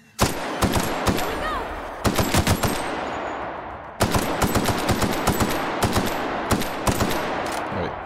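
Light machine gun fire from The Outer Worlds, loud and close, coming in rapid bursts with brief pauses between volleys over a steady background of combat noise.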